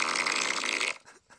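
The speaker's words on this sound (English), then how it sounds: "Was that an actual fart?" A recorded fart sound is played aloud: one buzzy, raspy blast of about a second that cuts off into faint trailing noise.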